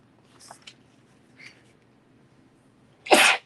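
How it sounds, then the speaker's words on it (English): A single loud, sharp sneeze bursts out near the end, following a stretch of quiet room sound with a few faint paper or crafting rustles and taps. "Excuse me, I sneezed."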